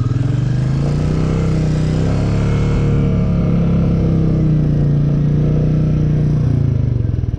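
A 2021 Royal Enfield Meteor 350 engine held at a steady, loud drone and rising slightly in revs near the end, heard close while the bike is held in place during low-speed practice; no one speaks.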